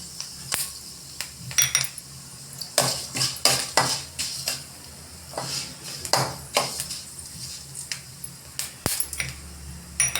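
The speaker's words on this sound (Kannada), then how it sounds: "ಅದ್ರೊಳಗೆ ಹುಣಸೆಹಣ್ಣು ಇದ್ರಾಗ ಹಾಕಿ ಹುರ್ಕೊಂಬಿಡ್ರಿ." Tamarind and fenugreek roasting in a pan, with frequent metal spatula scrapes and clanks in irregular bursts over a soft sizzle, close and loud.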